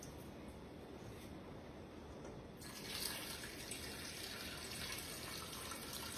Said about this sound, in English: I'll pour the first half and make it lighter for you